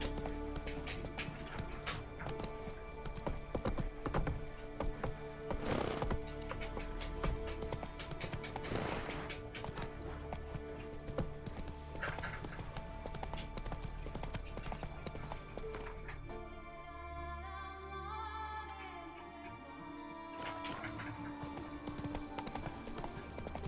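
Hooves of the horse Roach clip-clop steadily in The Witcher 3 on Skellige, a brisk rhythmic trot under game music, with a brief quieter stretch of chirping birds near the end.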